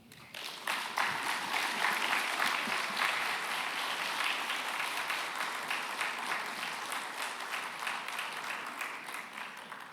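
Sustained audience applause fills a seminar hall at a university world-of-work event, a dense, steady wash of many hands clapping that holds for the whole stretch and tapers slightly toward the end, with no talk over it.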